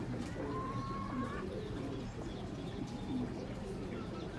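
A male pigeon coos in low, soft repeated phrases close by, with faint chirps and background rustle around it.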